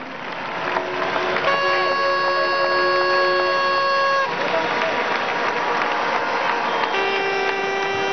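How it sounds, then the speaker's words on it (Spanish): An audience at a Venezuelan political housing-programme congress claps in welcome for a speaker. The steady crowd applause runs throughout, mixed with held musical or horn-like tones. "Un aplauso de bienvenida."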